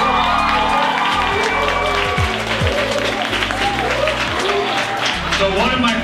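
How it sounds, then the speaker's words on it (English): A crowd claps and cheers with scattered whoops at an awards celebration, under a loud mix of music or voices close by. "So how about a round of applause?"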